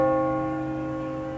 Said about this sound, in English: I tried it to play fast notes and to have a keyboard that connects to the bells